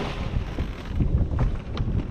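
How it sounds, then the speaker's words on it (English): Steady wind buffeting a microphone outdoors while crab trapping from a boat, a low continuous rumble with gusty surges, with boat and water noise mixed in. "Starting to get a little windy."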